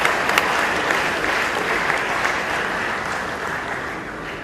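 Dense, sustained audience clapping from a large crowd, loud and even for several seconds with only faint voices underneath.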